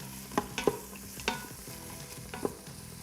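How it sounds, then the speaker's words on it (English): Onion and celery sauté in an Instant Pot, a soft constant sizzle broken by a few sharp scrapes and taps of a utensil stirring the pan, close by with no voices. "you're just gonna stir that around a little bit"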